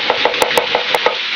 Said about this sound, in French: L'oignon, je le ciselle.